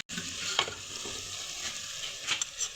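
Softened tomatoes fry in a pan for moong dal, giving a steady hiss of sizzling oil with a few brief scraping stirs near the start and near the end.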